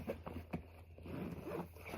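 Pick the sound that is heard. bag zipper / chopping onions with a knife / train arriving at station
bag zipper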